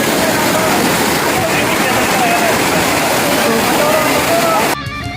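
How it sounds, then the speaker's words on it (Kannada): Vibhuti Falls, a forest waterfall, rushes close and loud in a constant roar, with thin birdcalls faintly above it before the sound abruptly drops away at the end. "ನೀರು ಮೇಲಿಂದ ಹರಿತಾ ಇರೋದು"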